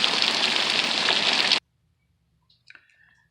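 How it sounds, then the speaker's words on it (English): Heavy rain falls as a loud, dense hiss for about a second and a half, then stops abruptly, leaving near silence broken by a few faint, brief noises. "As you can see, it's raining, like pretty bad over here."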